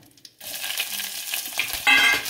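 Cumin, curry leaves and green chili hit hot oil and burst into a close, loud crackling sizzle after a brief quiet start, surging sharper near the end as more is stirred in.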